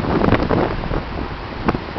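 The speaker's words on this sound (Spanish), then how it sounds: "las olas" Sea waves breaking along the Malecón seawall in Havana, Cuba, heard as a continuous broadband wash with gusty wind noise on the microphone and a brief louder surge near the end.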